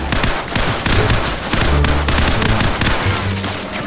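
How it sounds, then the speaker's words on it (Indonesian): Dense, loud bursts of automatic gunfire from overhead in Call of Duty 4: Modern Warfare, rattling continuously with heavy low booms throughout, a helicopter attack on a village battlefield. "Bukan dia nembakin dari atas"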